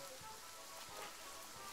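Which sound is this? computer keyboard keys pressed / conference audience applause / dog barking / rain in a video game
rain in a video game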